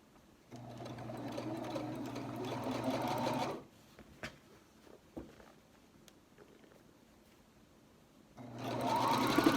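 A sewing machine stitches a face mask in two runs of fast whirring stitching. Soft clicks and handling noises fill the quiet gap between them.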